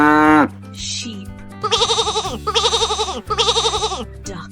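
A sheep gives three drawn-out, wavering bleats in steady succession, loud and close over a soft musical backing.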